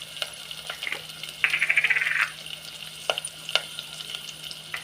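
Mustard seeds, onions and curry leaves fry in a pan, with a quiet background sizzle, scattered spoon taps and one dense burst of crackling pops in the middle.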